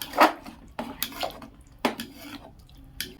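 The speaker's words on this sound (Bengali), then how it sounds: "এটা খিচুড়ি, তাই মাঝে মধ্যেই খুন্তি নাড়তে হবে, নাহলে ধরে লাগবে।" A metal spatula stirs khichuri in a cooking pot. A few separate scrapes and clinks of metal on metal come about a second apart, close up and fairly quiet.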